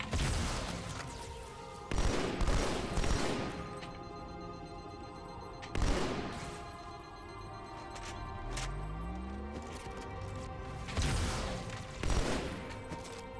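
Weapons fire in the Halo 2 Anniversary campaign comes in several separate bursts of rapid shots spaced a few seconds apart, with game ambience and a faint electronic sweep between them, moderately quiet, no talk.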